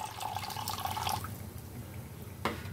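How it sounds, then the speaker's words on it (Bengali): Water poured into a pan of tengra fish curry to make a thick gravy, a soft broadband splashing trickle for about a second, then quiet with a single brief clink near the end. "এখন আমি এর মধ্যে দিয়ে দিব গ্রেভির জন্য একটু জল।"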